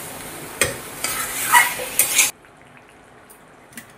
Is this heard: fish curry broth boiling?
yes